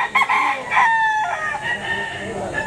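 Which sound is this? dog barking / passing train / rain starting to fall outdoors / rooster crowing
rooster crowing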